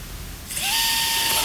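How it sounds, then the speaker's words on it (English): Power drill spinning a 1/4 inch bit into a car fender on a 2025 GR Corolla, starting up with a sharp rising whine and holding a steady high-pitched drone, close and alone. "Now I'm drilling the holes that I marked with the Sharpie with a 1/4 inch drill bit."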